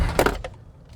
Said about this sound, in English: There tends to be a clicking coming from, I found in my Equinox, from the rear brakes